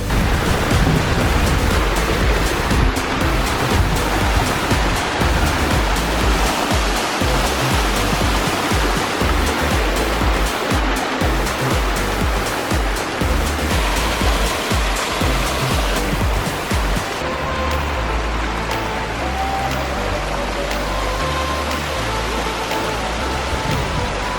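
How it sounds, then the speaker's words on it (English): A pondless waterfall spills and splashes over boulders in a steady, loud, continuous rush of falling water close by, unbroken for the whole stretch, with no voices. "Beautiful pondless waterfall."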